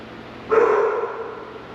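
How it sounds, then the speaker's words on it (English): One dog bark, loud and close, a single sharp woof trailing into a brief fading tail. "What are you barking at?"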